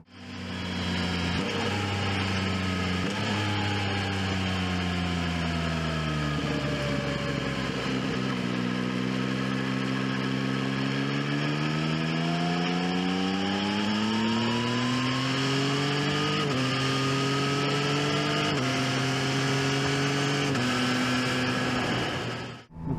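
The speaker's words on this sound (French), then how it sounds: "il remet les gaz en automatique quand on shift à la descente et ça fait un bruit super sympa" Yamaha Tracer 9 GT engine downshifting through its quickshifter with automatic throttle blips, loud and continuous, revs stepping and sliding in pitch over about twenty seconds with no talk.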